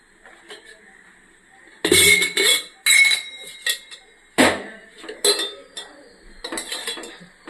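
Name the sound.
kadai pan placed on a stove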